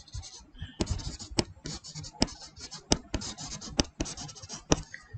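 Pen or chalk writing on paper or board during an accounting lesson, steady close scratching strokes punctuated by sharp taps, with no talking.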